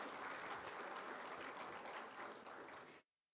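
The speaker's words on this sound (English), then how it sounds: "Please, let's give them a round of applause." Audience applause at a startup summit inauguration in Delhi, welcoming guests with bouquets: a dense, steady round of clapping from a sizable crowd that holds evenly for about three seconds and then stops abruptly.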